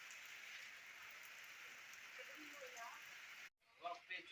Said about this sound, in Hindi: काफी तेज बारिश हो रही है इस टाइम।